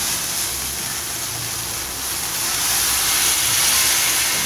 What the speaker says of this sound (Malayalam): ഇപ്പം എണ്ണ തെളിഞ്ഞത് കൊണ്ട് ഇതിലോട്ട് ഒഴിക്കുക.